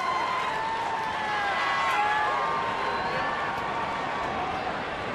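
Boston fans in left field cheer at a Cubs–Pirates baseball game in Pittsburgh, a steady distant crowd roar with whoops rising and falling, sustained throughout without a break.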